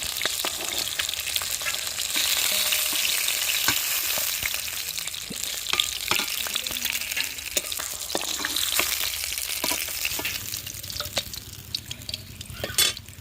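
Rohu fish fries hard in oil on a village clay stove, a dense, loud, continuous hiss and crackle with scattered sharp pops and spatters throughout.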